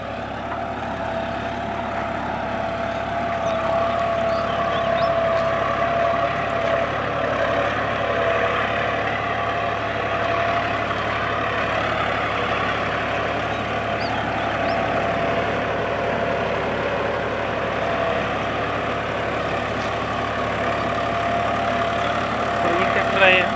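A John Deere 5405 4x4 tractor pulling a reversible double plough through wet field soil, its engine giving a steady, continuous mid-pitched drone and hum, close and even, with speech likely present.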